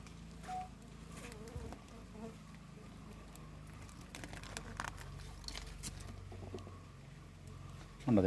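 Honeybees hum faintly around a wax-covered hive frame, a low, continuous buzz with scattered light rustles and handling noises, quiet and somewhat distant.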